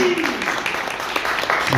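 Applause with cheering voices at a small café gathering of OGC Nice fans, a short burst of steady clapping mixed with chatter.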